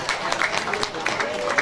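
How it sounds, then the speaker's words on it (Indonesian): A crowd at a vocational high school graduation ceremony applauds the graduating class 12 students, giving a short burst of fairly close, busy clapping with some voices mixed in. "mari semuanya kita ucapkan selamat, tepuk tangan kepada anak-anak kelas 12."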